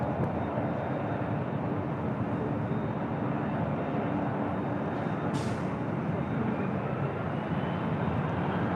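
A Boeing 757 takes off from runway 24 left at LAX, a broad, steady roar of jet engines that holds at a constant level across the whole stretch, with no talk.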